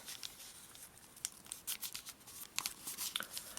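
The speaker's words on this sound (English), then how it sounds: "let's take this bottom edge here and fold it up to that center edge" Origami paper folded by hand, an edge creased up toward the center, giving soft crinkling and scraping bursts at close range, faint and irregular with short sharp crackles.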